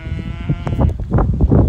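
A cow with her newborn calf in a paddock makes several short, close bleating calls mixed with soft shuffling noises, and no one talks.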